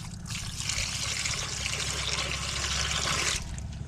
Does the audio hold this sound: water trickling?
yes